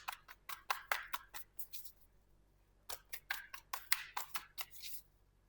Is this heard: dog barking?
no